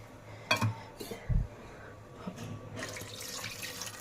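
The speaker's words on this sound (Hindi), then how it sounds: "तो इसमें अब डाल देते हैं पानी।" Water is poured into a pot of soaked chana dal in a home kitchen, with a couple of soft metallic clanks of the pot followed by a faint running, splashing pour.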